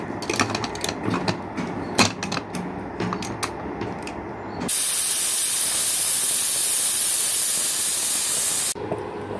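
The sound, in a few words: pressure cooker hissing steam while cooking dal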